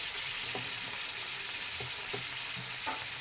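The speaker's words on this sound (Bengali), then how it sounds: "সব শাকটা ঢেলে দিয়েছি, এবার নাড়িয়ে নেব" Boiled radish greens with garlic sizzle steadily in a hot pan, with a handful of soft scraping stirs and clinks spaced through the continuous frying hiss.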